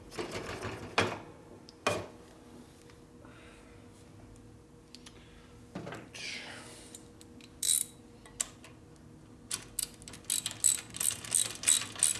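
Ratchet torque wrench tightening bolts on a 1957 Harley panhead engine with an STD head conversion, heard as a few separate clicking bursts and then a quicker run of sharp ratchet clicks near the end, close by, with no talk.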